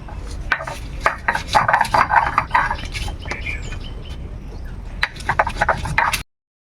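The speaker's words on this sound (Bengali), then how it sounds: "লঙ্কা বেটে নেব।" Green and dried chillies are pounded for a chocolate-flavoured meat dish, with repeated dull knocks and scraping of stone or utensils that come in uneven bursts, close and fairly loud, before a brief stop and a final cluster of strikes.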